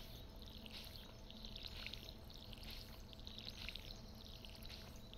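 Watering crops in the Stardew Valley video game: a steady soft pour of water from a watering can, repeating in gentle swells over a faint continuous background, with no talking.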